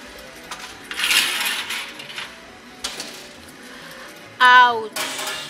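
Coins clatter and cascade in a coin-pusher slot machine, with bright metallic jingles against arcade background noise and a louder burst of tumbling coins near the end.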